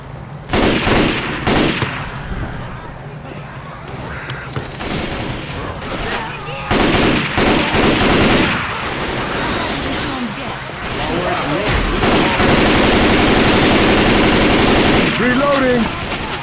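Rapid automatic gunfire from the zombie shooter Left 4 Dead 2, played in the Hard Rain campaign, crackles in long sustained bursts with brief pauses, loud and close, while players talk over it.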